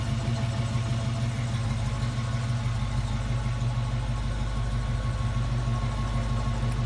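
A 1968 Ford Mustang coupe with a 289 V8 and Thrush exhaust idles close by, giving a steady, deep rumble with an even low throb and no talking.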